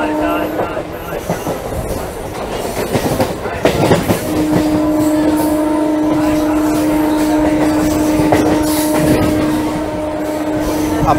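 A Digha local passenger train, running from Santragachi towards Mecheda as train 38301, rolls along the rails with loud rhythmic clickety-clack, a sustained tonal hum and occasional wheel squeal, heard from on board.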